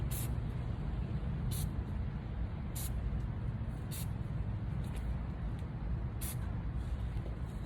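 A spray paint can hisses continuously onto a tumbler, a steady close rushing spray broken by a few short bright pulses as the nozzle is pressed in bursts.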